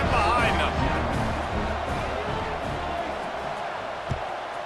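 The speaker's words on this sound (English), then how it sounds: "this crowd now ready to get behind them" A stadium crowd in the College Football 26 video game makes a steady, dense roar before a kickoff, slightly louder at first and then holding level beneath a commentator's talk.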